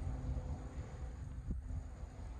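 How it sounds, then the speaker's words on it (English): Strong wind buffets a microphone outdoors at a park on a very windy day, a steady low roaring rush with no talk. "It is a very windy day"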